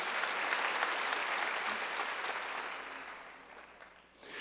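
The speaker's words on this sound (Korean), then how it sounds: "박수 한번 주세요" Congregation at a Wednesday church service gives a round of applause, dense even clapping that holds steady and then tapers off near the end, with only faint talk.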